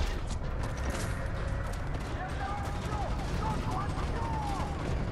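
Gunfire in Homefront: The Revolution, a constant rattle of shots and clanking mechanisms under dense battle noise, with faint voices mixed in.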